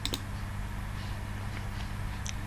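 A layered stereo synth bass line from the Spire synthesizer in an uplifting trance track plays as a steady, sustained low drone, fairly quiet, with a few faint clicks and no voices.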